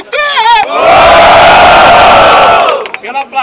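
Loud crowd roar of cheering and shouting at a Rio de Janeiro freestyle rap battle, Batalha da Aldeia vs Batalha do Coliseu, swelling for about two seconds after a shouted call and fading into scattered voices.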